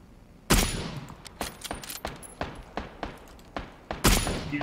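Gunshots in the video game PUBG: about ten sharp, separate shots at an uneven pace, with two louder blasts at the start and near the end, over a quiet background.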